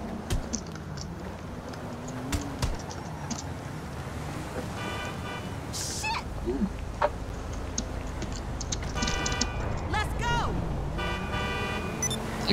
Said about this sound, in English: I couldn't tell if she was honking at me or not.